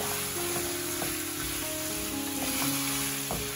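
Beef pieces frying in oil for kosha, a bright continuous sizzle with scraping stirs and light clinks of a utensil against the pan, close and steady.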